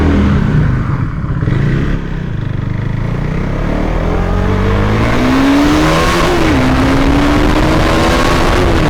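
A KTM Duke 390 BS4 motorcycle engine revs up close and loud through its exhaust, pitch climbing and dipping over a continuous throaty rumble.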